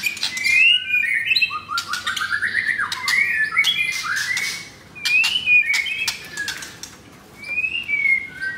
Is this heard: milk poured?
no